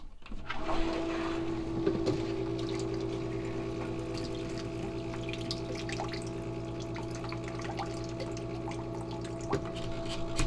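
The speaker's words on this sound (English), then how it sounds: "Now we plug it in and push the water back through the system" Small pump pushing water back through an on-demand water heater during descaling, a steady close hum with a constant tonal whine and sloshing water, running unbroken.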